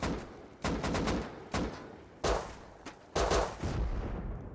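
Gunfire in a PvP raid game: loud, sharp volleys of shots arrive in separate bursts with brief gaps, some single cracks and some rapid runs, with a faint voice in the background.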